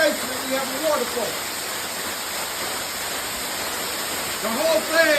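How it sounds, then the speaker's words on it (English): Flood water from a storm pours into a basement like a waterfall, making a steady, dense rushing hiss throughout. Faint voices come and go underneath. "Down in the basement, we have a waterfall."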